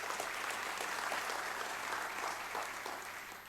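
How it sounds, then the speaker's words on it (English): Sustained clapping from a large audience at the 2020 State of the Nation Address, dense and steady throughout, tapering slightly at the end, heard from some distance in a hall. "we ought to applaud the class of 2019"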